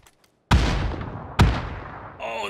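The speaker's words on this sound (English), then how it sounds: "Oh, that was such a good nade." A PUBG grenade explodes with a sharp nearby boom and a long rumbling decay, followed by a second blast about a second later, with a faint tone rising at the end.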